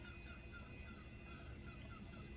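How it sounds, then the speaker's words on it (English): Faint, repeated clucking from a group of chickens in the distance, steady and overlapping beneath a constant background hum. "Oh, listen to those chickens"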